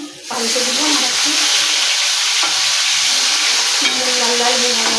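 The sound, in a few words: fish pieces frying in a pan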